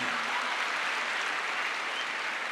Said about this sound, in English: Applause for His Excellency.